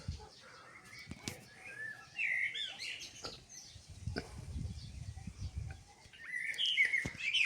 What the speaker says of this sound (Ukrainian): Дуже гарно співають наші пташки.